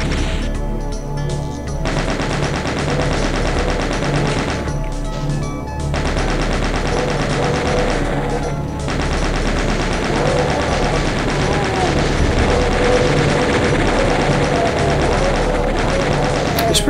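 Chaingunners in the Doom map Blazing Boulevard fire continuous loud machine-gun bursts, a dense rattling barrage with brief lulls, heard alongside other combat noise.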